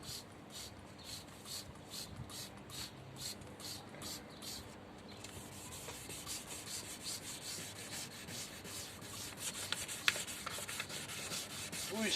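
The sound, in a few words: sanding plastic with 180-grit sandpaper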